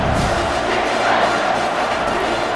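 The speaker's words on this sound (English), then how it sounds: "Third down, and the crowd really getting into it." A stadium crowd in the EA Sports College Football video game cheers and roars steadily on third down, a dense, continuous wash of noise with no distinct voices.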